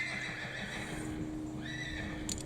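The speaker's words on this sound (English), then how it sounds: "That's a stallion, I think." A stallion neighs on a woodland walk in the New Forest, a drawn-out whinny rising and falling, moderately distant over faint outdoor background, with a brief sharper call near the end.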